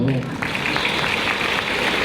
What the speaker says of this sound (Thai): ปรบมือเพื่อนหน่อย